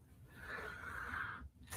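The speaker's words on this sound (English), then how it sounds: "I gotta blow my nose" A single short, wheezy nasal blast, like someone blowing their nose, quiet and close, ending with a brief sniff-like burst.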